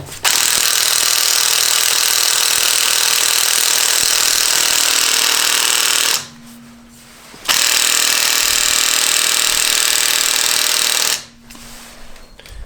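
A HYCHIKA 18V cordless impact wrench rated at 2000 RPM and 350 Nm hammers loudly and close up in two long bursts of about six and four seconds, separated by a short quiet pause, then stops again at the end.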